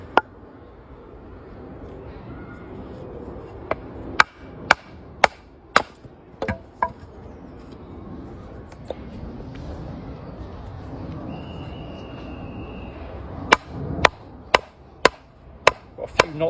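Sharp, loud strikes of a wooden hammer on wood land in irregular bursts, several spaced knocks followed by a rapid run of blows, over a quiet outdoor background.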